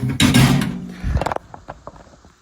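A metal basket full of chicken wings being slid into a Ronco Showtime Rotisserie, heard as a loud close rattle and scrape, then a few clicking metallic knocks that fade out.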